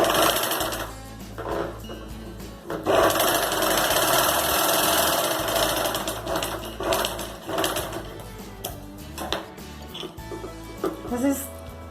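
Sewing machine stitches a triangle-shaped zippered fabric pouch in rapid mechanical bursts, the needle chattering close and loud with brief pauses between runs, while someone talks over it.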